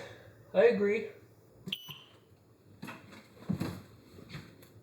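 A short high electronic beep from a smoke alarm sounds once amid a soft two-tone chirp, handling noises and people speaking quietly nearby.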